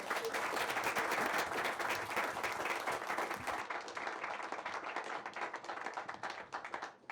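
An audience at the Gaithersburg Book Festival breaks into sustained applause, a dense close wash of clapping that thins slightly toward the end.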